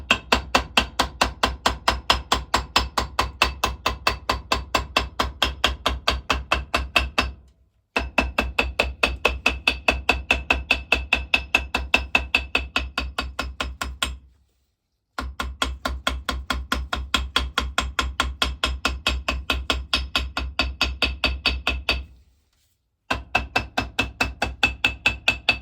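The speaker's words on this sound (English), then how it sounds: "trusty ball peen hammer, you can tap it out." A ball peen hammer taps steadily on the water pump of a 1921 Lister TM Type stationary engine, a fast, even run of sharp metallic knocks close to the mic, broken by three short pauses.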